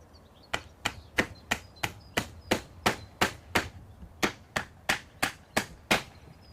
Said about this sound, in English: Nail this batten to the lintel, approximately 6 inches either side of centre.